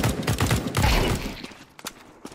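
Rapid bursts of gunfire from a Counter-Strike 2 deathmatch, dense overlapping shots for the first second and a half, then thinning to a few scattered, sharper reports.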